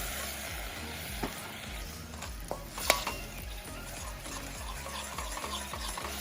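Coconut milk, slightly lumpy from cold weather, stir-fried with a little curry paste in a pan, giving a steady soft sizzle with repeated scraping stirs and an occasional sharp clink of the spatula.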